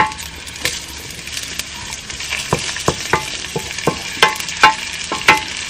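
Onions, ginger and garlic sizzle steadily in hot oil for Filipino pork adobo, with a continuous bright frying hiss and sharp clicks and scrapes of stirring.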